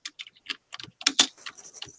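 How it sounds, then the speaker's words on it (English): Typing on a computer keyboard during an online video hangout, with a quick irregular run of close, crisp key clicks and no talk. "Sorry, I'm typing."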